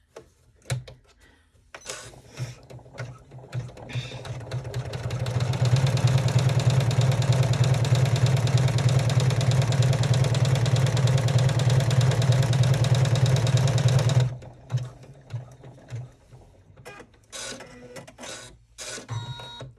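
Embroidery machine sewing a top stitch on a sling backpack in the hoop, a steady mechanical whir that builds, holds for about ten seconds, then stops, with small handling noises before and after.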